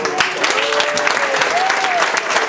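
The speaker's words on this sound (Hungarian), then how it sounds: "legyen mondjuk nagy taps!" Audience applause at a camp band gala, dense steady clapping from a crowd filling the whole stretch, loud and continuous, with a few voices faintly mixed in.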